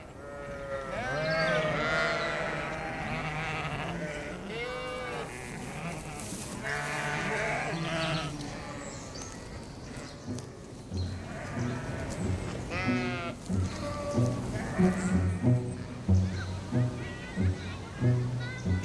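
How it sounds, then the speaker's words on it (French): A flock of sheep grazing on the lawns of the Englischer Garten in Munich, bleating repeatedly in wavering cries that overlap and come fairly close, with people talking at the same time. "Mais nous avons aussi un troupeau de moutons."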